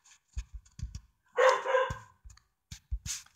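A dog barks in a short outburst: several quick, sharp yaps followed by one longer, louder bark, then a few more brief yips, close by in an otherwise quiet room.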